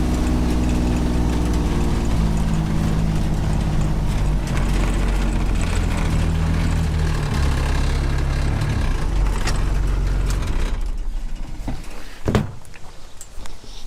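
A vehicle engine drones loudly and steadily while driving over a large compost pile area on a food-forest property, then cuts off near the end, leaving quieter sounds and a single thump.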